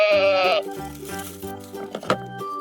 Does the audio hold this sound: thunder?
no